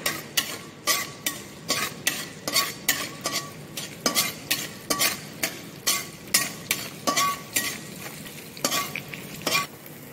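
Ginger, cloves and whole spices fry in 2 to 3 spoons of oil in a kadhai, a soft sizzle broken by a regular rhythm of scraping spoon strokes against the pan, close and clear, no voices.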